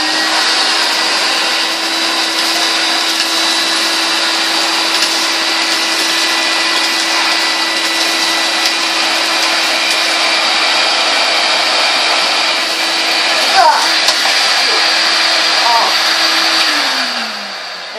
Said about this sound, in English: So I'm going to pass this hoover through the middle once, see how it does, and then we'll hoover up the rest.